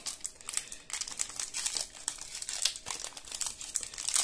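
A Yu-Gi-Oh! booster pack of 18 cards is torn open, giving continuous close crinkling and crackling of the foil wrapper for a few seconds with no voice.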